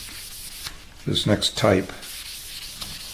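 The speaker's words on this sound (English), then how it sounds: "I've sanded between, I think I did 3 coats and then sanded and then did a 4th coat and I'm sanding again" A few short rasping strokes of hand sanding a super glue finish on a guitar, close and scratchy, with faint background noise between them.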